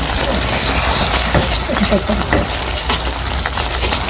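Spices fry in oil in a pot with a loud, steady sizzle. Stirring scrapes and clatters underneath at close range without pause.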